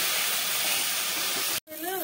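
Prawns fry in a pan with a loud, steady, close hiss that cuts off abruptly near the end, followed by a brief voice.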